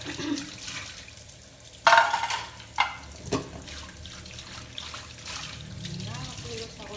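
A kitchen tap runs while dishes are washed, giving a continuous watery rush broken by a few sharp clatters and knocks.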